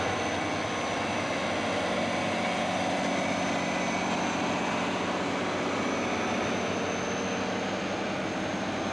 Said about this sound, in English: Following the nice John Deere tractors that we just saw going by